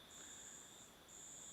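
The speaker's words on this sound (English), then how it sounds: "What is going on? Again, grasshoppers" Insects chirp in a wild jungle, a steady high, continuous trill at low level with a brief gap near the middle, no voices present.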